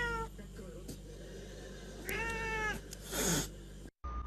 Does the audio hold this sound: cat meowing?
yes